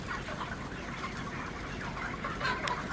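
Chickens cluck in a dense, steady chorus on a poultry farm during night loading, a constant noisy bed of fowl calls with a few sharper squawks near the end.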